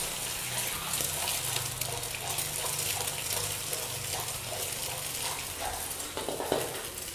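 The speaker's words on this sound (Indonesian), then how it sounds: "Kemudian kita aduk ya." A spatula stirs hotel-style nasi goreng in a hot pan, with steady frying sizzle and repeated scraping and clinking strokes, close and fairly quiet, with no talking.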